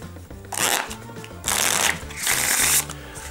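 Kiss Cards plastic playing cards shuffled by hand in three quick riffling bursts, close and crisp, with no talking.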